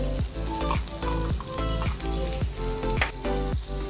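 Peas sizzle loudly after going into a hot pan of oil, a dense continuous frying hiss punctuated by regular rhythmic scraping strokes of a spoon stirring, close up and with no talking.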